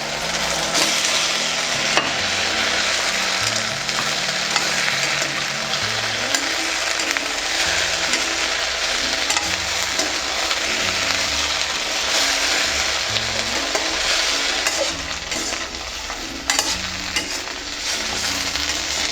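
Egg 65, fried egg pieces tossed through masala in a pan, is stirred with a spatula. The loud steady sizzle runs under continual scraping and clacking strokes, close up and without pause, with no talking.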